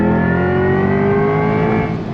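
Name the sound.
Chevrolet C8 Corvette E-Ray V8 roaring while accelerating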